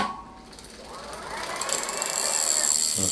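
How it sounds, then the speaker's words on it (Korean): A Keyde conversion motor on an electric bike spins up with a rising electric whir, starting faint and building to a steady, fairly loud high-pitched hum over about three seconds, with no talking. "디스플레이가 없어도 모터는 윙 하고 돌거든요"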